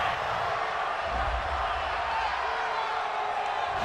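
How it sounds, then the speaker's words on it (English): Football stadium crowd at an NFL game between the Pittsburgh Steelers and Cleveland Browns reacting to a roughing-the-passer penalty, a loud sustained roar of many voices with a swell of booing in the middle, broad and distant-sounding. "Well, this crowd does not like that call."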